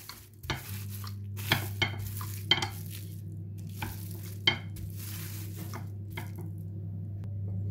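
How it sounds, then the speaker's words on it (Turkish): A rolling pin flattens minced meat inside a plastic bag, making irregular crinkling and pressing thumps over a steady low kitchen hum, close and fairly quiet with no voices. "Daha sonra bir oklava yardımıyla şöyle güzelce düzlüyorum."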